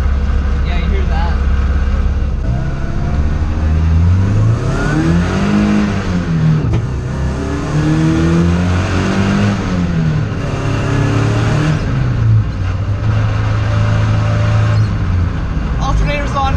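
KA24-swapped Toyota AE86 engine revving loudly in a confined space, rising and falling pitch sweeps with a rough rattling from the transmission underneath, continuous and close throughout, with a person talking over it.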